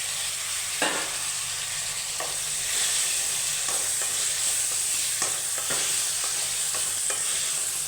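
Chopped tomato and green chili sautéing in a pan for a garlic curry, a steady bright sizzle with occasional spoon scrapes and clinks from stirring, close and continuous with no voices.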